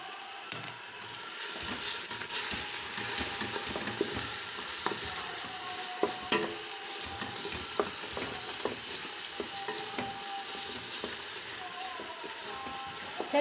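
Butter melting and sizzling in a pot with tomato paste, pepper flakes and ground pepper for a meat-and-bean stew. The frying is a soft, continuous hiss, broken by scattered clicks and scrapes of stirring.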